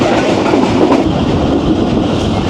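The Jaffar Express passenger train runs fast along its rails through Punjab, heard as a loud, close, continuous rumble with steady wheel clatter and no talking.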